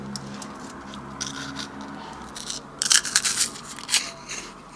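Crisp crunching bites into vegan aquafaba meringues, brittle and close crackles coming in a short cluster after quieter rustling.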